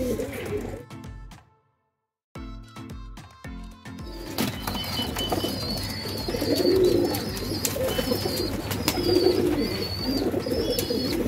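Pigeons coo steadily in a pigeon loft in Andheri West, Versova, their soft repeated calls rising over a brief silence and continuing through background rustling, with a person talking at the start.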